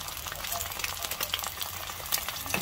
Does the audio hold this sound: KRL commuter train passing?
no